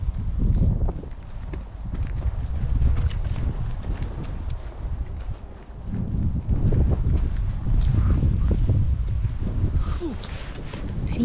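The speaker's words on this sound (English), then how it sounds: "See, now it's windy." Strong wind buffets the microphone on an outdoor walk, a loud, rough, continuous low rumble with gusts swelling and easing, and footsteps and faint movement mixed in.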